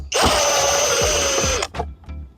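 A power drill whirs steadily for about a second and a half, backing Phillips screws out of a Toyota Tacoma side mirror, then stops abruptly, leaving a few faint handling clicks with no talk.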